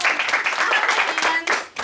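Brief applause and cheering from an improv comedy show audience, a burst of clapping mixed with voices and whoops that dips and picks up again, loud and close.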